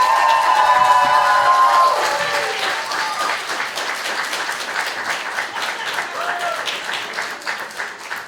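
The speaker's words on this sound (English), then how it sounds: "Everyone give a big round of applause to Antonio." An audience at a student government candidate debate night applauds loudly, the dense clapping strongest at first and then tapering to a sustained, softer patter with a voice briefly heard at the start.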